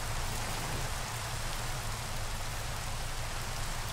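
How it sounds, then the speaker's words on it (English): Steady rain falls in Minecraft, a dense, even hiss of drops at constant loudness with no talking. "Oh, rain, even better."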